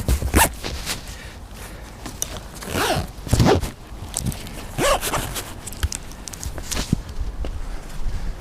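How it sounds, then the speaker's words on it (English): A bag being zipped up outdoors at a Tokyo allotment: a series of quick, close zipper pulls and rustles in irregular bursts, mixed with handling noises and footsteps. "So I'm just going to zip up the bag."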